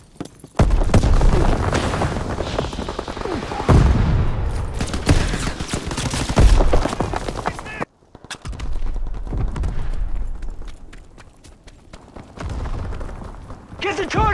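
A battle in the Call of Duty: WWII video game, with dense rapid gunfire, booming blasts and a grenade explosion. Loud bursts fill the scene, then break off, and quieter shots and rumbles follow under shouting voices.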